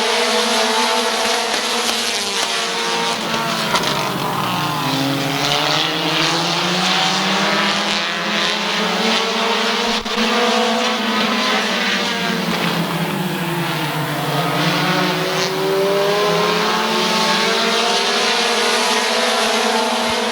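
Race cars at Midvale Speedway scream past in a loud, continuous engine howl whose pitch sweeps down and back up as they pass and circle the track, with no voices.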